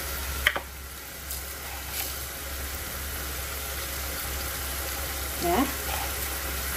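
A shrimp and tempeh stir-fry in sweet soy sauce sizzles in a pan with a steady, even hiss that runs through the whole stretch, joined by a few small clicks and a brief spoken word.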